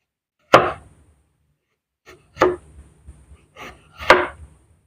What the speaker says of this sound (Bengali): আলু দিয়ে এরকম করে কেটে ফেলবো প্রত্যেকটা আলু